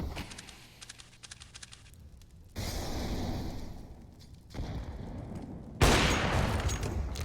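Gunfire from a Counter-Strike match on the Mirage map comes in a few quick bursts of sharp shots. Busy game sounds run between them at moderate level, with no voice over it.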